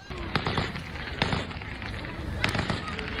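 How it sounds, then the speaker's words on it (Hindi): Taliban fighters in Kabul fire weapons outdoors, sharp cracking shots ringing out singly at irregular intervals over a constant crowd-like din, with a voice talking over them. "हथियार उठाए हुए ये तालिबान के लड़ाके किस तरह से फायरिंग कर रहे हैं"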